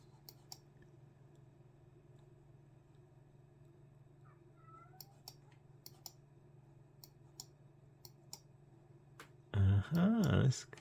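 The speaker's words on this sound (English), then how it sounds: "My cat is meowing in the background." A domestic cat gives a couple of loud, drawn-out meows near the end, after a long quiet stretch dotted with faint clicks.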